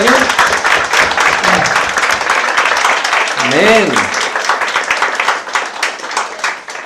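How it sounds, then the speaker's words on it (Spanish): A church congregation applauds, dense clapping spread across the room, with a voice briefly rising above it partway through. "¿Alguien le puede dar un aplauso al Señor por las respuestas que nos dio este año?"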